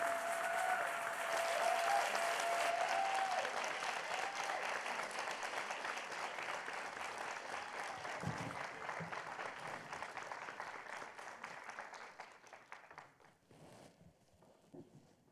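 An audience claps steadily to welcome author Sandra Cisneros and Dr. Natalia Molina onto a stage at a literary event; the applause is sustained, then thins out and fades toward the end, with no talking.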